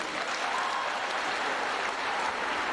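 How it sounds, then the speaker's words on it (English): An audience at a women's empowerment event applauds in a thick, even wash of clapping that holds steady and loud for nearly three seconds, with no breaks. "Let's give a round of applause once again."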